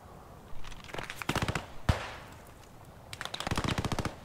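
Rapid machine gun bursts in the World War II shooter Squad 44, several loud clattering volleys with a sharp single crack between them, fairly close.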